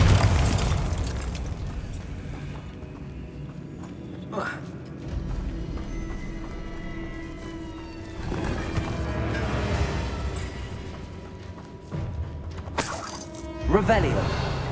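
Bombarda explosion spell cast in the video game Hogwarts Legacy, a sharp blast near the start followed by crackling debris and further bursts later, set against game music and ambience, with a voice speaking over it.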